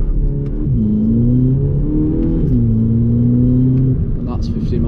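VW Polo GTI launched at full throttle from a left-foot-brake hold, the engine note climbing steadily through gears with clear shift drops, loud and close from inside the cabin.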